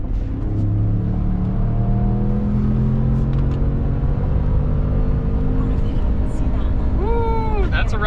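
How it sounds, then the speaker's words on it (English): A 2021 Ford F-150 pickup engine revs hard through the lower gears toward the rev limiter, a loud, steady rising drone with a bouncing whine near the end, heard from inside the cab. "That's a rev limiter, baby."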